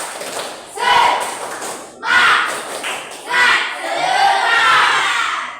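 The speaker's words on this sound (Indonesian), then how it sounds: "Tepuk semangat." A classroom of students performs a rhythmic spirit clap chant, loud bursts of unison clapping and shouted syllables in repeated phrases, one group cry after another, close and energetic.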